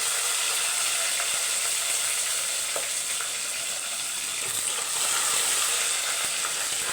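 Crushed garlic cloves sizzling in hot oil over a low flame while making a fish curry, a steady close frying hiss with faint crackles and a few stirring sounds.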